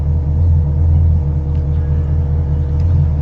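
A 1987 box Chevy Caprice cruises through New York, its engine a steady, loud, low rumbling drone heard from inside the car with road noise and no talking.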